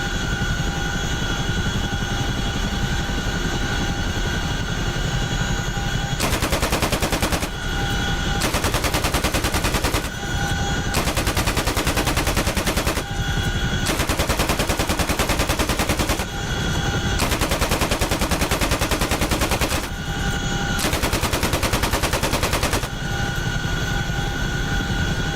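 Door gunners fire from a helicopter in the DCS World flight simulator, with long bursts of machine-gun fire breaking out repeatedly over the steady loud drone of rotor and engine, and no talking.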